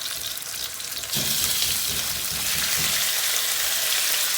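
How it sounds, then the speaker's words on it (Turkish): Loud, steady sizzling of chicken pieces frying in hot oil in a pot, jumping a bit louder after a second as pieces hit the oil, with crackling spatter throughout. "tenceremizde yağımız ısınmaya başladı. Hemen tavukları atıyoruz."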